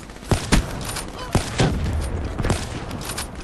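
Sniper rifle noscope headshot in Black Ops 3, with sharp gunshot cracks among other gunfire in the match, the loudest bursts early on, heard under excited talk.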